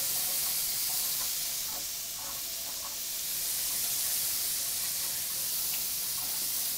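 Garlic and shallot sizzle in a pan, giving a steady, fairly faint hiss with light crackles and occasional stirring, and no voices.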